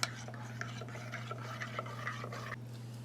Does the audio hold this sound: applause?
no